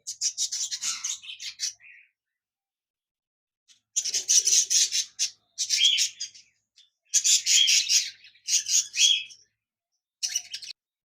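A pair of budgerigars in a breeding cage chirp in quick, bright bursts separated by short silences, several chattering phrases close by and alone.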